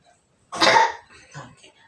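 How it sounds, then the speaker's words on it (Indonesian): One hard, forceful cough from a woman performing a choking-management demonstration, a loud burst followed by a fainter second exhale, with no talk. "Kemudian Ibu batuk sekuatnya sebanyak 1 kali."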